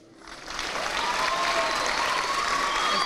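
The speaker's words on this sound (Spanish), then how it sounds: "queremos brindarle las gracias y un fuerte aplauso" Sustained applause from a community gathering at a school in Acapulco, rising quickly after a brief quiet start and holding steady as dense, even clapping with faint crowd murmur and no one speaking.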